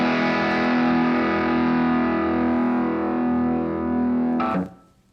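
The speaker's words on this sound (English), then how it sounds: "Turn on the tube screamer." A Tube Screamer overdrive on a Blackstar IDX Floor pedal rings out as one sustained, distorted guitar tone that holds steady and then cuts off abruptly.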